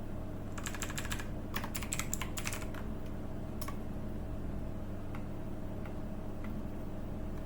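Short flurries of clicks from a computer keyboard while entering data in Excel, a few quick clustered keystrokes early on, then sparse isolated taps over a steady electrical hum.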